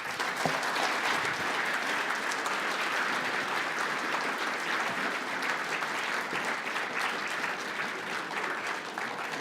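Audience at a lecture hall applauding to welcome a speaker to the stage for a talk on Theodore Roosevelt, a dense, steady roar of many hands clapping that holds evenly throughout.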